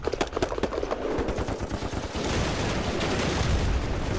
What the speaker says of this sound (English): Hit hard by artillery.